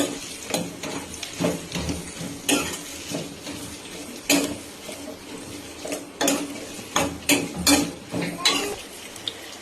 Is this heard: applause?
no